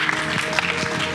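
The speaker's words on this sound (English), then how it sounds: "Please, everybody, round of applause." An audience at an esports summit gives a brief burst of dense, steady clapping that fills the hall.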